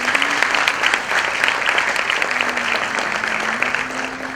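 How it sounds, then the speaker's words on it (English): An audience at a classical dance debut recital gives a sustained, dense round of applause, steady and loud throughout, with a faint tone humming underneath. "Please give a huge round of applause."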